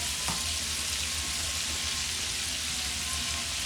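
Shrimp and sausage sautéing in a pan, a steady, even hiss of frying throughout, with no talk.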